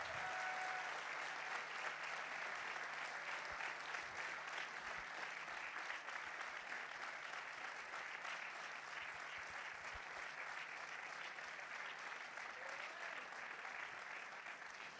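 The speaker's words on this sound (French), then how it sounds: "On peut les applaudir bien fort." Long, steady applause from a large audience at a Socialist party congress opening session in Marseille, a continuous dense patter of clapping heard from a distance, even in level for fifteen seconds with a faint tone briefly near the start.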